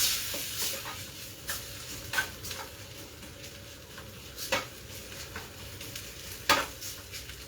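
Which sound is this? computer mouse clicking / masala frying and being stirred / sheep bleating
masala frying and being stirred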